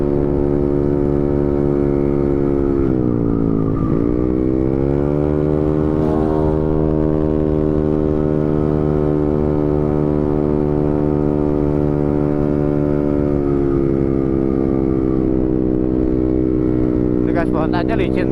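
A motorcycle with a slightly worn exhaust drones steadily and close on a night ride through Lembang, its pitch dipping and rising around a few throttle changes, with the engine filling the whole stretch.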